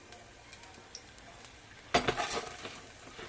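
Fish frying in a pan stays faint at first, then bursts into sharp sizzling with a few clatters partway through before settling into softer crackling.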